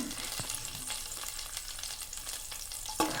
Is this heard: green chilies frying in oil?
yes